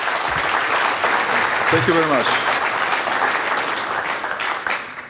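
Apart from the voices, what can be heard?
applause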